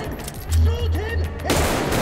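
Gunfire in the VR shooter Arktika.1, a burst of shots close by with a loud broadband blast near the end, over a low rumbling game backdrop with a voice briefly calling out.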